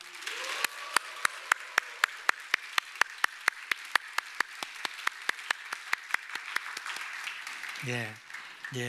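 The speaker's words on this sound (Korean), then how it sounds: "우리 모두가 다 환호와 박수로 그렇게 환영하겠습니다." A church congregation at a Sunday morning service claps in a steady rhythmic beat, sharp hand claps evenly spaced for several seconds before a voice briefly takes over at the end.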